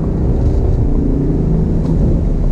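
A 2019 Ford Mustang GT accelerates in third gear on a track, giving a loud, steady engine drone that holds strong and even for the whole stretch.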